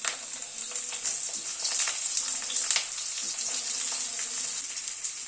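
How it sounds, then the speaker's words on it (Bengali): Radish hitting hot oil after a crackling spice tempering for a winter pea dal, giving a loud, even, bright sizzle with faint stirring scrapes underneath and no voices. "ফোড়নটাকে ক্র্যাক করিয়ে নেওয়ার পরে মূলোটাকে দিয়ে দিচ্ছি।"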